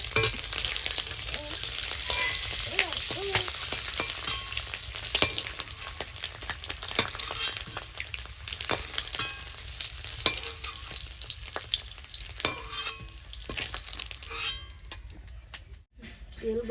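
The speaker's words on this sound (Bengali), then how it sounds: "ডিমটা আমি ভালো করে ভেজে নেবো নেড়ে চলে" Eggs fry in hot oil and are stirred in a pan, with a dense, steady sizzle and frequent scraping clicks running throughout. A voice is heard faintly over the cooking.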